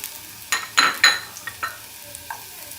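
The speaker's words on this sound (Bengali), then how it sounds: "এখন আমি আলু কুচি দিয়ে দেব," Chopped potatoes go into a pan of hot oil after fried onions, cooking for a noodle dish with boiled eggs. A few sharp stirring clatters and scrapes stand out over a soft, steady sizzle.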